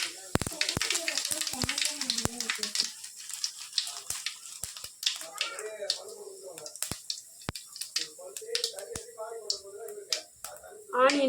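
Mustard and fennel seeds sizzling and popping in hot oil in a home kitchen while cooking quail gravy, sharp crackling pops scattered over a soft sizzle, with someone talking through much of it.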